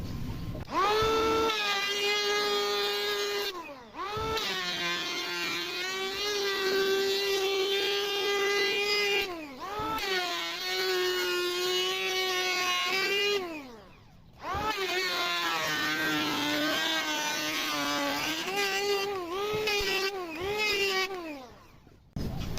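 A cordless battery-powered electric wood planer whines at high pitch in long sustained runs, stopping briefly and spinning back up three times, loud and close with no talk over it.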